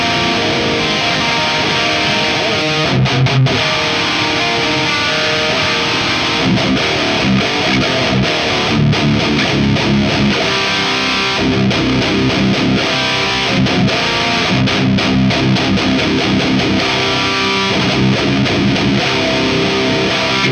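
Electric guitar played through a Synergy amp on its red channel, heavily distorted with thick saturated chords and sustained notes, loud and continuous throughout with no talking.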